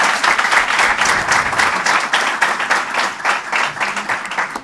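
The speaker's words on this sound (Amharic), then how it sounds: "ሞቅ ያለ ጭብጨባ እንዲያቀርቡልን" Sustained audience applause at a university law school debate on expropriation law in Ethiopia, many hands clapping at a steady, moderately loud level for several seconds with no talk over it.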